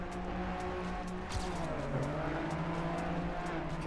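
A rally car in TrackMania, engine droning steadily as it brakes hard into a turn, with a brief tire squeal and shifting engine pitch midway, continuous and close.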